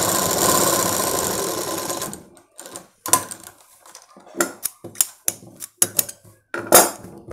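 A sewing machine stitches the neckline of a Punjabi dress top, first running in a loud, steady mechanical whir for about two seconds, then falling to a series of sharp, separate clicks and short bursts of stitching.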